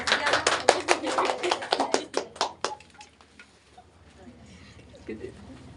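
Classroom applause for a student after a persuasive speech in a micro-teaching lesson: a burst of close hand claps for about three seconds, then a quiet room with faint voices.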